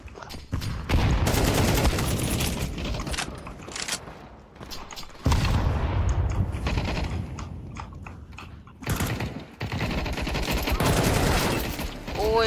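Gunfire in the video game Counter-Strike 2, with loud bursts of shots and rapid repeated reports filling most of the stretch, broken by a short lull and then another dense volley.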